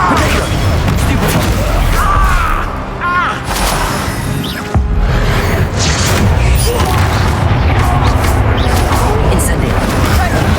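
Hogwarts Legacy Bombarda blast spells thudding and crashing amid dense combat noise, repeated booms and smashes layered over continuous rumbling action, with a brief lull midway before the chaos resumes loudly.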